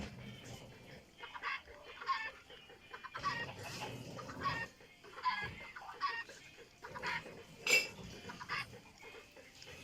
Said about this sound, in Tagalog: Ito ang dami nyo dito mga chicken.